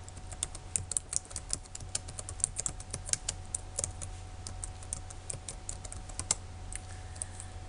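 Rapid typing on a computer keyboard while entering C++ code, with dense irregular key clicks in quick bursts, close and clear over a low steady hum, with no talking.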